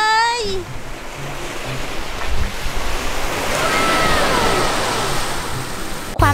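Surf washing onto a beach with a steady broadband rush, wind buffeting the microphone, and a few brief voice-like tones at the start.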